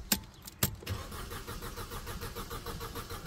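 Mercedes C180 engine cranking without catching, with two sharp clicks or turnover bursts at the start, then a steady rough whirring churn that runs on, close and moderately loud, with no voices.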